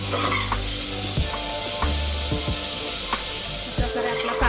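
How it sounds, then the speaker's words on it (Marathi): Finely chopped onions sizzling in a pan for mutton dum biryani, a steady hiss broken by several sharp scrapes and clanks of a spatula stirring, close and alone without talk. "तर आपण आता हा कांदा चांगला लालसर होईपर्यंत परतणार आहे."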